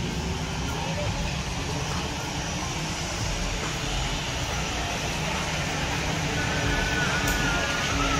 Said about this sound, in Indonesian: Untuk pesawat barusan baru landing